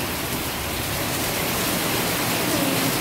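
Heavy rain from Storm Elsa pours down steadily in Jamaica, a dense, unbroken hiss of water drumming on surfaces, loud and close with no pauses.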